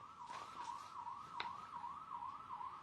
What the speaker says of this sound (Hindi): सायरन की आवाज आ रही है